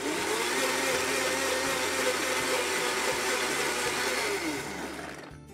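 A blender whirs steadily as it mixes Caesar dressing with lemon juice, salt and pepper, a loud continuous motor whine that winds down at the end, no talking.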